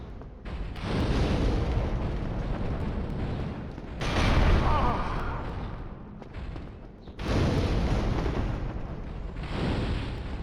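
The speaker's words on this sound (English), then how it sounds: "Fireball." Fireball spell blasts in Dark Souls: several loud roaring whooshes and booming bursts in succession, each a sustained rumbling surge separated by brief dips, with no speech over them.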